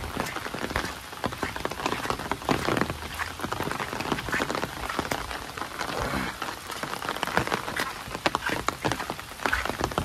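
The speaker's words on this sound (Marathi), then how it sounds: "पावसाही पडता कंटिन्यू" Steady rain falls continuously during a crab-catching trip in saltwater shallows at high tide, a dense, even patter of drops on water and surfaces with scattered frog croaks mixed in and no talking.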